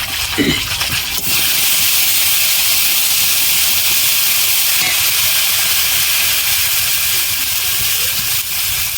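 Ground spice paste of ginger, garlic and green chilli sizzles steadily in hot oil in a pan while a fish curry is cooked, a loud, continuous hiss close by after a brief clatter at the start.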